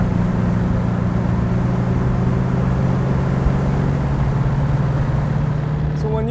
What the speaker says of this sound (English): just listen to that American V8 muscle